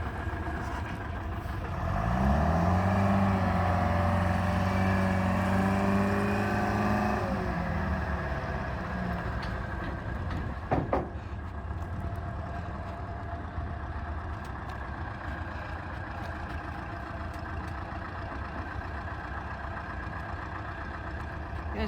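A winch hauls a heavy piece of iron, its motor drone rising to a strained steady hum for several seconds before easing off, with a sharp metallic clank partway and a low rumbling background afterward.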